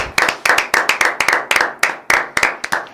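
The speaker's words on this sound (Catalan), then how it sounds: "Un aplaudiment, va." Small studio group gives a birthday round of applause for Hugo, about a dozen sharp, separate claps in uneven rhythm, close and fairly loud with a short room echo, with no talking over it.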